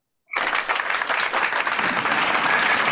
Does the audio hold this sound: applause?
yes